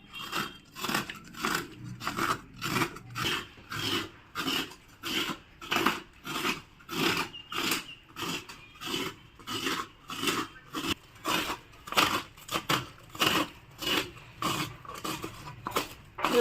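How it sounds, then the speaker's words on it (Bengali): A coconut grated by hand in a home kitchen gives a close, rhythmic rasping scrape, around twenty even strokes repeating about once a second without pause. "এখন নারকেলটা কুড়ে নেব।"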